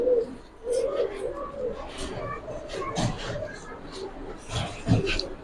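Pigeons at a Bangladeshi pigeon farm coo in low, repeated throaty calls, close and moderately loud, with people talking in between.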